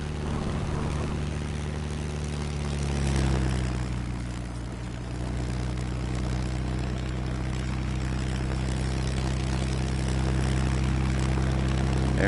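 In the Ultrawings VR flight game, a light aircraft's propeller engine drones steadily in flight, a low, even hum with a slight swell partway through and no voices.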